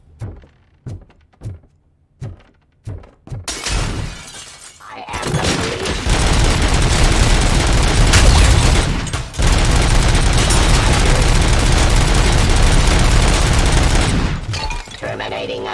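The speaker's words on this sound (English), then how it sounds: "Stop shooting at me." Gunfire in Robocop Rogue City: several separate loud single shots at first, then a long, dense barrage of continuous heavy fire with a brief break partway through.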